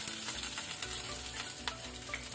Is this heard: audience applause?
no